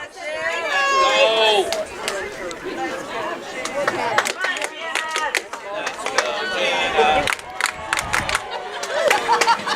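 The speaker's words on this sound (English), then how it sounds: "We have the Let's Go Jenna chants from the Louisburg crowd here." A home crowd chants and cheers rhythmically at a high school softball game between the Paola Panthers and the Louisburg Wildcats, with a commentator talking over the steady, lively noise.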